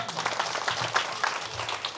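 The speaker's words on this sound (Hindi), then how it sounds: "थोड़ा ताली बजा दीजिए आप लोग।" An audience at a Hindu religious discourse claps in a scattered, moderate patter while a voice talks over it.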